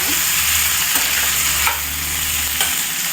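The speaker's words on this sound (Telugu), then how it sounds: "దోరగా వేగగా చూపిస్తాను" Cashews and green chilies fry in hot oil in a pan with ginger and onion, giving a steady, close sizzle with faint stirring scrapes and no talk.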